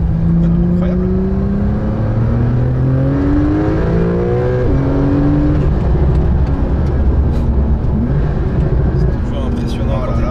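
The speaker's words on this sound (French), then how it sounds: "C'est un moteur turbo, mais il monte assez haut quand même dans les tours. Il monte presque jusqu'à 8000." A Porsche 911 991.2 GTS turbo engine revs high as it accelerates hard, heard from inside the cabin with rising and falling engine tones through gear changes while people talk over the strong drone.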